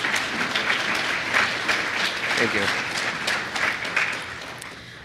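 A conference audience at React Rally 2023 bursts into steady applause that holds for several seconds, with a brief spoken thanks over the clapping.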